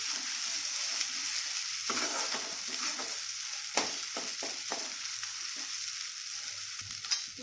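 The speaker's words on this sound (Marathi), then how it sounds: "वाटण चांगलं यायचं काय करायचं आहे आपल्याला तेलामध्ये चांगलं फ्राय करून घ्यायचं आहे" Ground masala paste frying in oil for a Patvadi curry, giving a steady hissing sizzle close by with a few sharp stirring clicks and scrapes, no voices.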